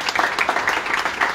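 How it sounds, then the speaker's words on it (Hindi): Congregation at an outdoor roadside sermon in Ludhiana clapping hands, a brief burst of steady rhythmic claps, fairly loud and close, with no talk over it. "ताली बजाकर"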